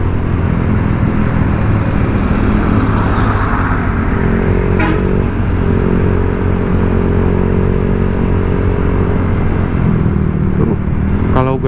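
A Honda Vario 125 scooter fitted with an aftermarket racing exhaust rides on a road at gentle throttle, with a loud, continuous low engine hum and passing traffic.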